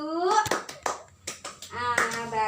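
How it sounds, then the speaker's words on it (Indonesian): Scattered hand claps from a small classroom group honoring a student during a high school microteaching lesson, a few uneven bursts mixed with children's and adult voices talking over them. "Tepuk tangan dong untuk Restu"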